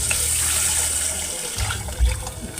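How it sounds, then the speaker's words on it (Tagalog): Water gushing and splashing steadily into a cooking pot holding fried fish, nearby, with a low rumbling churn as it fills. "lagyan na natin ng tubig."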